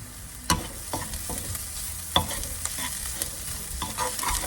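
Curry leaves frying in hot oil for a crab gravy, a steady close crackling sizzle with a few sharp pops and spatula knocks scattered through it.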